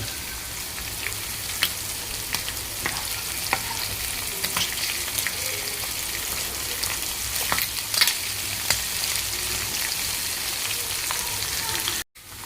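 Spicy prawns crackle and sizzle steadily on a hot tawa, with scattered sharp pops and occasional scraping as pieces are turned over, continuing alone without talk until an abrupt cutoff near the end.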